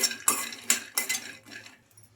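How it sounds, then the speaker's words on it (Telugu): Peanuts being stirred in a kadai as they lightly fry, a few sharp metal scrapes and clinks of a spoon against the pan, close and quiet, fading toward the end. "ఈ పల్లీలను కొంచెం లైట్గా బాగా ఫ్రై చేసుకోవాలి"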